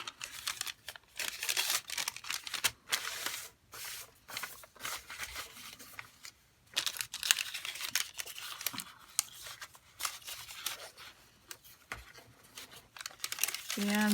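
Paper die-cut pieces from a scrapbooking kit rustling and crinkling as they are slid back into a paper envelope, close-up bursts of irregular crackling and shuffling with brief pauses.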